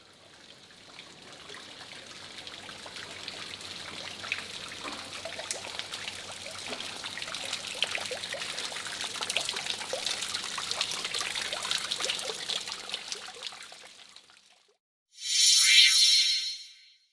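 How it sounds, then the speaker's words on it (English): Artificial waterfalls at Kew Gardens in London give a steady, soft trickle and splash of flowing water that runs evenly for about fourteen seconds, then drops out, followed by a short, brighter burst of water noise. "And amongst all this beauty peacefully flow some artificial waterfalls."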